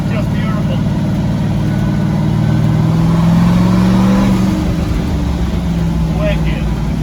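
A twin-turbo LS-powered Chevy pickup accelerating hard, its engine roaring loud and close with a rising pitch sweep mid-pass, then settling into a steady drone, with talk over the engine noise.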